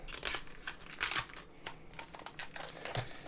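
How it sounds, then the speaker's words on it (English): A freshly dyed Discraft Meteor disc has its stencil peeled away, giving close, quiet crinkling and tearing rustles in short bursts with small pauses between them. "We're going to go ahead and peel this off. Go ahead and keep peeling it."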